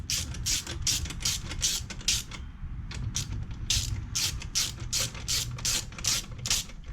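Ratchet wrench with a 2-inch extension being worked on a GY6 scooter during a repair, giving rapid rhythmic clicking in repeated bursts with a short pause midway, close and clear over low workshop background noise.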